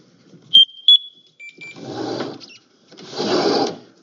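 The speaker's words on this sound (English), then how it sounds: "I'm just going to go ahead and turn on the air, and you'll hear it go through the startup procedure." Two sharp electronic beeps and a sustained tone from an SCBA air pack starting up, followed by two bursts of hissing air release, close by.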